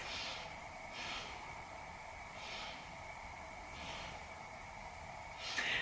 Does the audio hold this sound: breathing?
yes